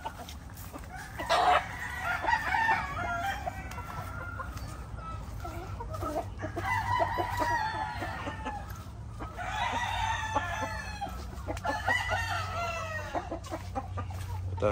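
Broodcock gamefowl roosters crow repeatedly at a farm during breeding preparation, several loud calls overlapping with clucking, under a steady low hum, with no talk.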